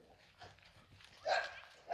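Dogs at a farm bark in short bursts, faint at first and then louder and closer near the end, with some low background rumble.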